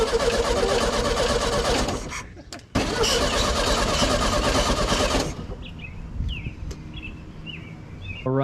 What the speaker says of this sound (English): I hooked this up the other day and it cranked over